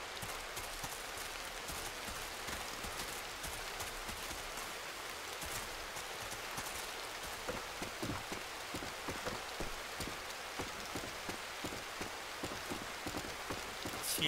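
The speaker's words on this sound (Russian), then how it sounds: "Сильный ливень тропический." A heavy tropical downpour falls in a video game's overgrown swamp map, a constant hiss of rain with scattered close drops pattering on surfaces, steady and alone.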